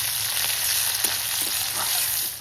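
Chopped onion dropped into hot mustard oil with cumin in a wok, a close, continuous crackling sizzle with a few soft stirring knocks, no voices.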